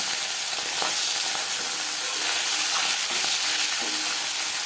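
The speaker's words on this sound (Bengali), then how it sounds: "তেল আমি গরম করে নেব তিন চামচ রিফাইন্ড অয়েল গরম করে নিয়েছি এবার দিয়ে দেবো মাছ" Loud, steady sizzling of small sea fish frying in hot refined oil, a dense continuous crackle with occasional sharper pops.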